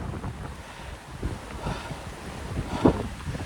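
Strong wind whips around tree branches on a wet walk, a steady rushing roar buffeting the microphone with gusts that swell and fade.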